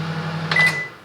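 A Silvercrest SMWC 700 D1 microwave oven gives a low steady hum, then a short electronic beep midway as the hum stops, followed by a faint click near the end.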